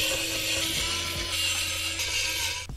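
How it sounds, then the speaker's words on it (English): Six flat-head screws being undone from a Poseidon65 tray-mounted keyboard, with a steady close-up scraping, ratcheting grind of the screwdriver and a brief clunk at the end. "So I'm going to undo these six screws"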